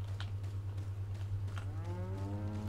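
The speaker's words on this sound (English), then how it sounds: "Hey cow, how's it going? Are you gonna attack me if I come close?" A cow in the Resident Evil 4 village moos in a long, drawn-out harmonic call that rises near the end, heard over a steady low hum and faint game ambience, with no talking.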